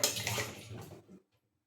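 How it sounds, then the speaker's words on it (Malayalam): Water is poured into beef being prepared for a beef roast, a close splashing pour that runs for about a second and then stops into silence. "ആവശ്യത്തിനുള്ള കുറച്ച് വെള്ളം ഒഴിച്ചു കൊടുക്കണം."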